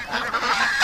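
A single injured domestic duck calls with a brief, raspy honking cry, close and fairly loud, heard alone.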